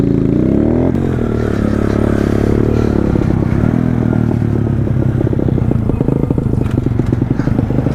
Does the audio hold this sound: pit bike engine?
yes